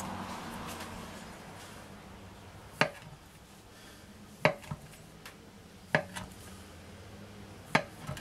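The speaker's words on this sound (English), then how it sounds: "we're just going to cut it into 12 pieces" A knife slices through rolled cinnamon roll dough to divide it into twelve pieces, giving four crisp, separate taps on the board a second or two apart against a quiet kitchen hush.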